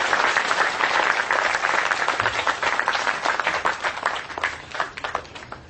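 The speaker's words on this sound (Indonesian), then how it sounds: "Tepuk tangan semua teman-teman sekalian untuk cinta kita bersama." An audience at a public talk and discussion gathering applauds loudly, a dense, sustained wash of many hands clapping that thins slightly toward the end.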